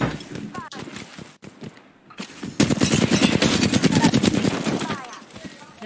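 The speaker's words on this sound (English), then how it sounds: "They're shooting at me!" Rapid automatic gunfire rattles in a dense, sustained burst during an Apex Legends match, preceded by scattered shots and footsteps, loud and close, with a player talking over it.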